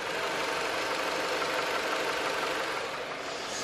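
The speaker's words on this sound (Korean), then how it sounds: "엔진 소음 먼저 들려드리면은" A Jeep gasoline SUV engine idles in a steady, smooth, quiet hum at close range, with no revving and no voices.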